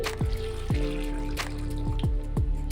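Water trickles and drips steadily into a cooking pot holding chickpeas and a potato cut into four pieces, a close, continuous liquid sound with soft splashy pulses, no talking.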